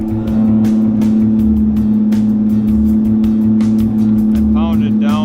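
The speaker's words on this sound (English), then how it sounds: "Try backing the car out again." A Datsun car backs out slowly, its engine holding a steady, close, low rumble for the whole stretch, with a short voice heard near the end.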